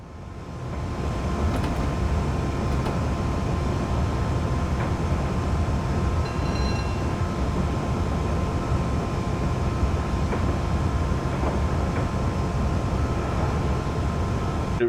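A Class 370 APT tilting train runs on rails along the West Coast Main Line in Train Simulator Classic, making a continuous, steady rumble with faint metallic rail clicks and no talking.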